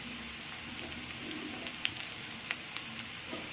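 Chopped garlic, ginger and green chilli fry in a pan with a constant close sizzle and a few sharp crackling pops, no speech.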